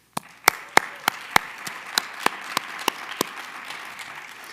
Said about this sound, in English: Please join me in a round of applause and appreciation for our 4 candidates.